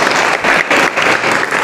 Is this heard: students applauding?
yes